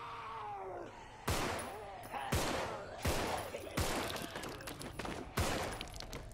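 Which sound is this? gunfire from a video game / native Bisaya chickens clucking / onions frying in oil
gunfire from a video game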